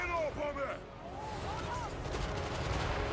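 Heavy dwarven cannons fire in a Total War: Warhammer III battle, booming in a dense barrage of repeated blasts amid battle noise while someone talks over it.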